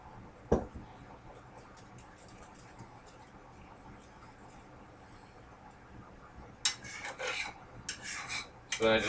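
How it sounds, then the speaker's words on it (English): Rasping scrapes of a utensil against the sides of bowls gathering dyed, colored shaving cream, with a quiet stretch followed by a burst of several short, close scraping strokes near the end. "I just scrape the sides of the bowls to get all of the colored shaving cream out of here"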